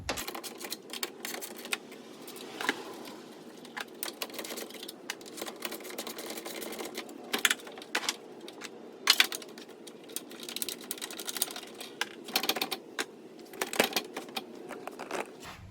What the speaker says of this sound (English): you're going to take your ever elusive 10mm socket and remove those 2 bolts